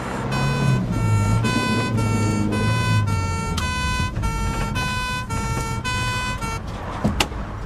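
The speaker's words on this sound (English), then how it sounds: "Just got to wait for the ambulance now." A steady repeating electronic ambulance siren tone pulses rhythmically over low vehicle rumble, loud and close.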